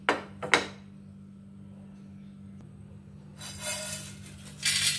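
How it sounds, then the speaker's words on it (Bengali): Roasted spices pour into a bowl with a couple of sharp clinks and a trickling rattle at the start, then quiet, followed by brief rustling, scraping sounds at the end. "এবার একটা পাত্রে আমি ঢেলে নিচ্ছি"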